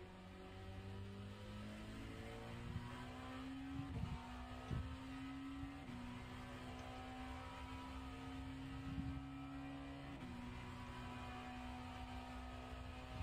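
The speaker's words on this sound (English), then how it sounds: "Faster traffic approaching." Faster race cars approaching and passing in the iRacing sim, a steady engine drone with shifting pitch and a few sharp bursts as cars draw near, with no talk.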